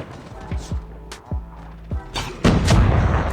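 Rapid bursts of M13 rifle fire in Call of Duty Mobile crack out in short groups, followed by a heavier sustained burst, with faint game sounds in between.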